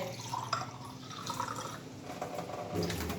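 Water pours and trickles into a glass at close range, a soft uneven splashing that rises and falls, with no one speaking.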